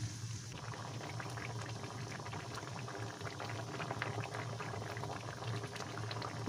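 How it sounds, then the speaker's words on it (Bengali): Fish roe kofta curry gravy bubbles at a steady rolling boil in a pan, a continuous close simmering burble with no talk. "ঝোলটা আমার ফুটে গেছে হুম একটু টকবক করে ফুটলে"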